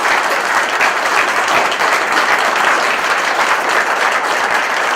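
A large audience at a community candidate forum gives sustained, loud applause for West Texas candidates, a dense continuous roar of clapping with no pauses.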